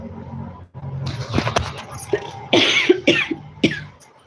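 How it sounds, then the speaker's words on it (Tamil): A run of hoarse, rasping coughs from a person with a chesty cold, close to the microphone, several in quick succession with short gasps between them. "சளி பிடிச்சிட்டு இருமல் வந்துட்டே இருக்கு"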